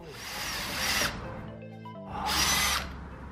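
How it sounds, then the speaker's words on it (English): A cordless drill bores through a steel beam at low speed, with bit lubricated by oil; two loud grinding bursts of drilling sound, separated by a quieter pause with a steady motor hum. "I kept using oil to lubricate and keep the bit cool, although this low RPM I'm drilling with really didn't heat it up much"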